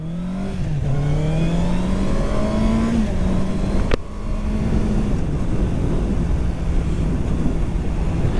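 A 2023 Honda CBR650R four-cylinder motorcycle pulls away after a braking test, the engine note rising steadily through the revs under heavy wind rush, with a brief shift dip midway.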